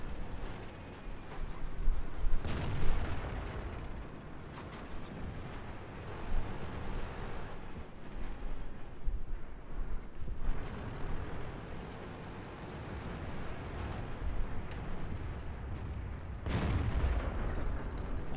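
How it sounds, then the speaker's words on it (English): Gunfire and explosions in a video game, with heavy rumbling booms and bursts of shots over a dense, continuous battle din, loudest in a few sharp blasts. "I try to shoot through debris."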